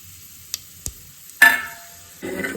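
Pulao ingredients tipped into a hot pan: a couple of faint clicks, then a sudden loud crackling burst as they hit the oil, settling into a steady, fainter sizzle with no talk.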